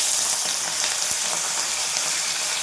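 Potato pieces fry in hot oil with a dense, even crackling sizzle that holds steady and close, with no voices.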